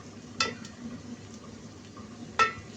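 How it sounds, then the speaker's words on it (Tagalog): Mung beans being stirred in a pot with dried shrimp, giving two brief, distinct clinks of spoon against the pot about two seconds apart over a quiet background. "Ihalo na natin yung munggo"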